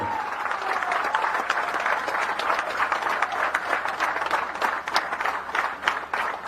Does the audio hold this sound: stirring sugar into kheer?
no